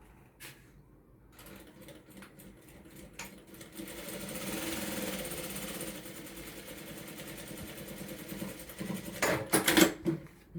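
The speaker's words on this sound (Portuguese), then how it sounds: "Eu vou passar uma costurinha de segurança fechando a nossa peça." A sewing machine runs a safety seam along the edge of a beginner's fabric toiletry bag, starting after a few clicks into a steady rapid stitching whir that lasts several seconds, then ending in louder clacks.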